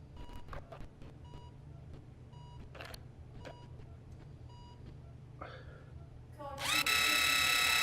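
Power screwdriver driving the final screw in a VR fracture-surgery game: a sudden loud, high whirring drill burst near the end, after a stretch of quiet beeps and soft interface clicks.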